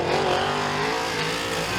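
Vintage race car at a heat race on a short oval track, accelerating hard out of turn 3, its engine a loud, dense, continuous roar filling the whole stretch close by.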